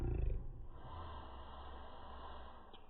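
A man vocally imitates a police dog sniffing around a car, a few rough snorting breaths close to the microphone, strongest at first and then trailing into quieter breathy noise.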